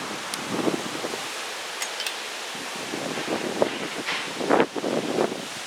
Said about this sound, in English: It sounds like somebody's roof, metal roof or something loose over there. Blowing around in the wind is what it sounds like.